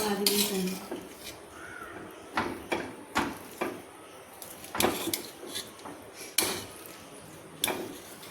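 Kichadi is served onto a plate with scattered, sharp clinks and taps of utensil against dish, irregular knocks spaced a second or so apart in a quiet kitchen, with a brief murmur of voices early on.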